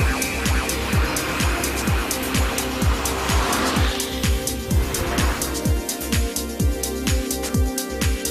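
A 2010 Alfa Romeo Giulietta Quadrifoglio Verde with a 1.75-litre turbo petrol engine and six-speed gearbox drives hard, its engine rising and falling steadily in loud, close repeated revving sweeps with no speech.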